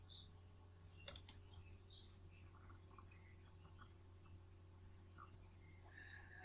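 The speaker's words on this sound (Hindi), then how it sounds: "यहाँ पर क्लिक कीजिए।" A computer mouse gives a quick pair of soft clicks early on, faint against a quiet room hum, while someone works through an online government records page.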